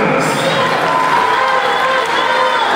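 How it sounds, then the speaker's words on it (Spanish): Crowd applause and cheering at a union swearing-in ceremony in Tecámac for the CLOT general secretary, a steady dense roar of clapping and shouts lasting throughout. "Fuerte el aplauso para nuestro secretario general del Comité Ejecutivo Nacional de la CLOT"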